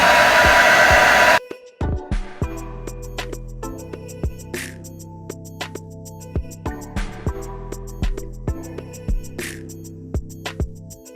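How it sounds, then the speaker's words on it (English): A hair dryer blows loudly on a lace wig for a second or so and then cuts off, after which rhythmic music with steady beats plays. "I'm just gonna go back in with my blow dryer."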